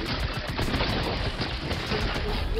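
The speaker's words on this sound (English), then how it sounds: "Oh, good headshot, Nebs." Dense bursts of rapid gunfire crackle through a Fortnite match, a loud continuous volley of overlapping shots over a noisy game mix with no voices.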